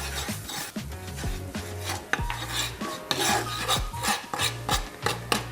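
Flour being stirred in a frying pan for béchamel sauce, rhythmic scraping and rasping strokes of a utensil across the pan surface, repeated rapidly and close up, with no voices.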